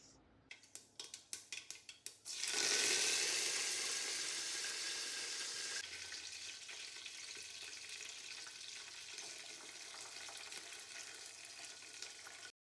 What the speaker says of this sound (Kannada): ಒಗ್ಗರಣೆ ಹಾಕೋದೊಂದು ಬಾಕಿ. ಒಗ್ಗರಣೆ ಹಾಕೋಣ.